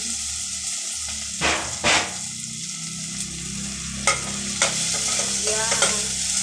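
Tomatoes sauté in a pan, a steady sizzle with a few clear scrapes and clanks of a spoon stirring, close and without talk.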